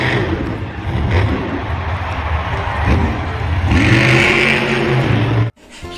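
A toy monster truck gives off a loud, close electronic engine revving and whirring that builds toward the end, then cuts off abruptly, with no talking.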